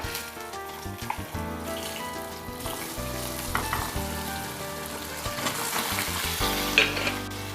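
Steamed goli idli going into a sizzling hing tempering on a low flame, a continuous close hiss of hot oil with stirring clatter that swells louder toward the end.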